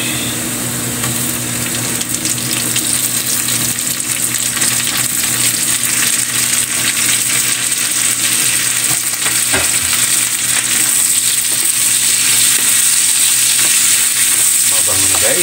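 Onions for escabeche fry in a pan, a loud, continuous sizzle with stirring scrapes throughout, heard close up.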